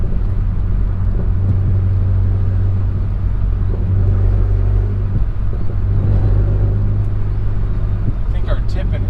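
A turbocharged Honda Accord drives on the street with a steady, loud low engine drone and rumble that stays constant throughout, with a faint high whine near the end.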